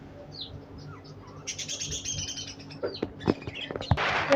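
A flock of small birds chirps and tweets nearby, with scattered short calls that build into a busier burst of overlapping chirps toward the end.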